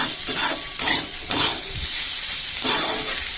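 Potato, onion and egg frying in a pan, a steady close sizzle broken by several sharp stirring scrapes of a utensil against the pan.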